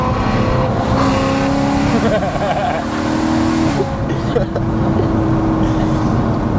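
A BMW E92 M3 engine runs and revs nearby with a loud, steady high-pitched drone that swells and dips, while voices talk over it.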